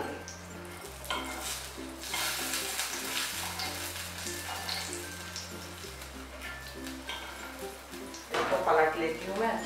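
Brinjal slices sizzle in leftover oil on a hot tawa for a masala baingan fry, a soft continuous frying hiss with occasional utensil scrapes, heard beneath someone talking throughout with background music.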